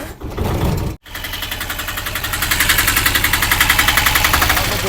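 An old Piaggio Ape auto rickshaw engine, a newer version of the classic model, chugs loudly up close. It cuts out for a moment, then settles into a fast, steady knocking idle that grows slightly stronger.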